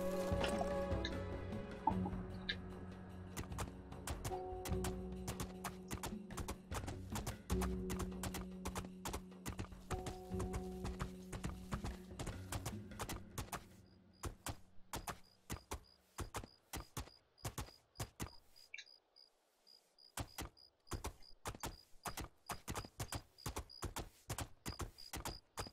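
Horse hooves clip-clop in the video game Two Worlds II, a steady rhythmic trot that continues as layered ambient tones drop out, leaving sharp hoofbeats alone.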